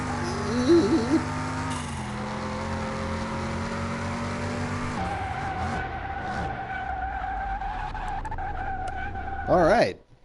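Game car engine drones loudly with shifting revving pitches in a racing video game, the tires skidding and squealing throughout, with a sharp louder screech near the end before it cuts off; a voice talks over it.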